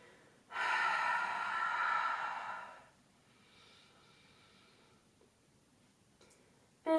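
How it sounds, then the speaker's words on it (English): A single long open-mouthed exhale during a grounding yoga session, a loud breathy rush lasting about two seconds before it fades into quiet room tone with faint rustling. "exhaling with me with your mouth open, a cooling breath."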